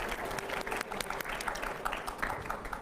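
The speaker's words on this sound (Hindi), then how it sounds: "एक बार जोरदार तालियां" Audience applause at a crowded public gathering, dense, even clapping at moderate distance that holds steady throughout without voices standing out.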